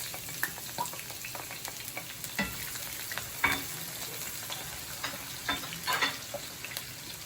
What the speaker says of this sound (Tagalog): Now we can already add the onions.